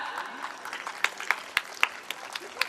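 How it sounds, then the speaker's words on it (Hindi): An audience claps at a school Independence Day celebration in India, a modest scattered applause with a few sharp individual claps standing out, fairly close, with a voice faintly present underneath. "एक बार इन नन्हे बच्चों के प्रयास के लिए जोरदार तालियां"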